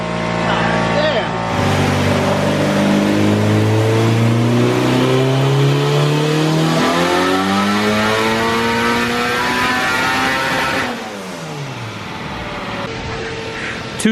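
An all-wheel-drive Honda CRX of about 1000 combined horsepower revving hard on a dyno during tuning, a loud engine climbing steadily through the revs for about ten seconds, then cutting back to a lower rumble.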